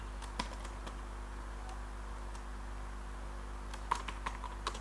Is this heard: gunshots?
no